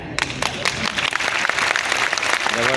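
Audience applause with dense, steady clapping from a crowd, sustained and fairly loud throughout, at a live talk event.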